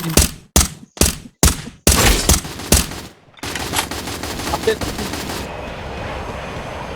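Gunfire in the Free Fire video game: loud, close bursts of rapid shots cut by short gaps, then a denser, quieter rattle of continuing fire that fades into a steady background hum.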